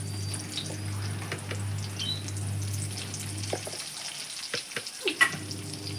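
Spices tipped into onions frying in a pan, a moderate sizzle with a low hum beneath that drops out partway, then scattered clinks and stirring scrapes near the end.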